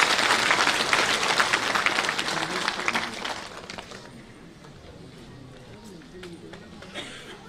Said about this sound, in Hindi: एक बार पुनः तालियों की गड़गड़ाहट आप सबकी तरफ से मिलनी चाहिए